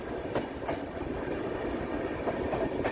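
Darjeeling Mail 12343 pulling into Bolpur Shantiniketan station, a steady close rumble of rolling stock broken by evenly spaced wheel clacks over rail joints, with no voices.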